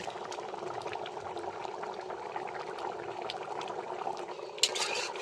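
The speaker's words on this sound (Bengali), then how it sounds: "আর তরকারিটা দেখো কি সুন্দর ফুটছে ঠকবক করে" A curry of chicken skin, liver, neck and feet simmers in a pot over a jute-stick fire, with a continuous soft bubbling and popping close by and a brief louder crackle near the end.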